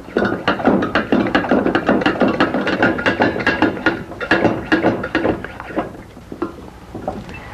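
A hand pump pressurizing a garden spray tank makes a fast run of close, sharp mechanical clicks and clacks in steady strokes, slowing and fading toward the end.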